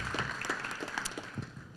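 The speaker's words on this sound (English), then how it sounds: "Give her a round of applause." Scattered applause from a conference crowd at a Bitcoin pitch event, with uneven claps over a background murmur that includes a voice, moderately loud and tapering off.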